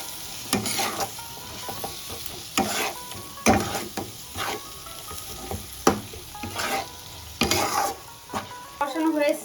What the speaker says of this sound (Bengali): এই মশলাগুলো সব দিয়ে দেবো, দিয়ে একটু ভালোভাবে নাড়িয়ে চাড়িয়ে মানে একটু কষা কষা করে নেবো